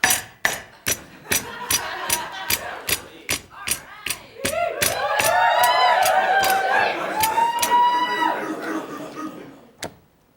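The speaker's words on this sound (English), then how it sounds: "we take a hammer and we start to tenderize." Sharp, regular blows of a hammer tenderizing meat in a steady rhythm, with voices talking over the pounding midway before a final single whack.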